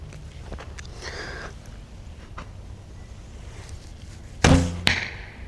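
An arrow loosed from a longbow strikes a target outdoors, a sharp loud thump followed by a second smaller impact shortly after, standing out against quiet ambient noise.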